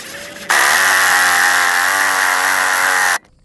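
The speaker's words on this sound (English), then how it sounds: "This is way overkill, 1/2 inch impact." A half-inch impact wrench driving a tire bead buster whirs loudly and steadily for about three seconds, starting and stopping abruptly, close to the listener.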